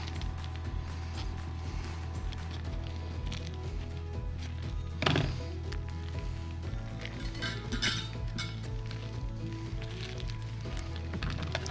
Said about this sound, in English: open all the bags and we're gonna put them into all the food into separate bowls